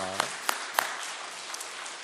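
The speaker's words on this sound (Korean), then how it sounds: "우리 수험생들, 이것이 아주 힘듦이 아니라 기회가 될 수 있는 축복된 시간이 되도록 우리 격려하면서 박수하겠습니다" A church congregation claps during a Sunday worship service to encourage students facing exams. The clapping is faint and scattered, with a few sharper claps standing out over a low wash of noise.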